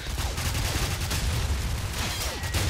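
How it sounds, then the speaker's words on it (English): Sustained gunfire from Call of Duty 4 PC multiplayer, dense overlapping shots and distant bursts forming a continuous loud battle din with no talk. "I just pop a grenade over there, because there's more gunfire"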